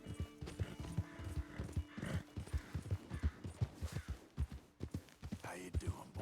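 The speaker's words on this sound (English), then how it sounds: "I need to look after my horse a little bit" Horse hooves clip-clop at a steady walking rhythm in Red Dead Redemption 2, close and distinct, with a brief whinny and soft rustling between the steps.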